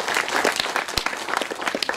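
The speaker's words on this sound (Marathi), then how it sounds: "त्याकरता जोरदार टाळ्या एकदा गोविंदरावांकरता होते" Hearty audience applause honors Govindrao at the inauguration ceremony of the Pt. Govindrao Patwardhan musical drama competition, a brief, dense clapping with a few sharper individual claps standing out.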